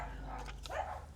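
Dogs at a church garage sale bark excitedly at someone talking to them, a few short yaps and barks heard at moderate distance over a steady background hum.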